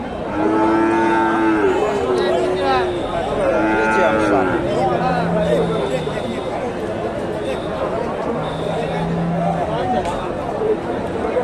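Friesian bulls and cattle lowing at a busy rural cattle market in Bogura, several long moos rising over a steady babble of crowd chatter and nearby voices.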